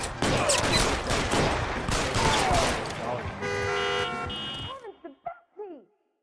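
Gunfire rings out during a shootout in the video game L.A. Noire, a dense rattle of shots mixed with car horns and loud voices, then a few sharp, separate bangs near the end.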